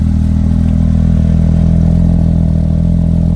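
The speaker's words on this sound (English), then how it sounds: "just listen to how crazy this exhaust is." A loud, continuous low engine rumble from a Porsche 992 GT3 RS, the exhaust droning steadily with a rough, throbbing tone throughout.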